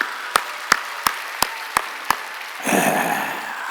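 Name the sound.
congregation applauding in church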